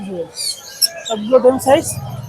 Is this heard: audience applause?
no